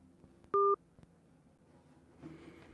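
A telephone keypad gives a single clear dialing tone while someone calls a person back during a live phone-call podcast about dumpster rentals, short and distinct over a faint quiet background.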